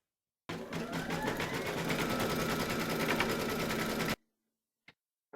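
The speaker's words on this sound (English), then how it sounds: "Pop your hoop into your machine and stitch round number 1" An embroidery machine stitches a placement outline in a hoop, a steady rapid mechanical whirring for several seconds that stops abruptly, followed by a couple of faint clicks.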